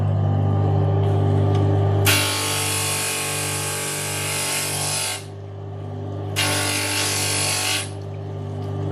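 Angle grinder used to sand and shape pieces of glass, whining loudly in two long bursts of grinding against a steady low motor hum, with a brief lull between.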